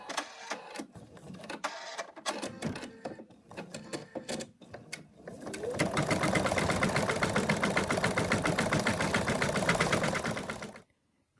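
An embroidery machine stitches out lettering on a small mouse design, first in uneven bursts and then in a steady, rapid mechanical chatter of needle strokes that runs for several seconds before stopping abruptly.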